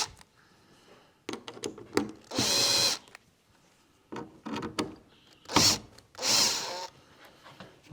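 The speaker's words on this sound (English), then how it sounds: "I think I'm going to pull these screws so I don't have to come back in here." A power drill backs screws out of a model railway layout, coming in short bursts of whirring, several roughly second-long runs separated by pauses and quieter handling clicks and rubbing, close and fairly loud.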